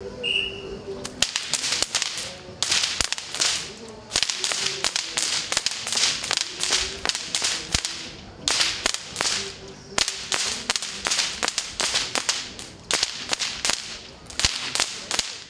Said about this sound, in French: les fouetteurs de Saint-Rémy de Provence participent au défilé et font claquer leur fouet dans un grand bruit